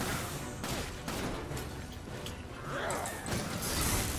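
Gunshots in Resident Evil 5 crack amid a dense, noisy game soundscape, a few sharp reports standing out over constant rumble and clutter.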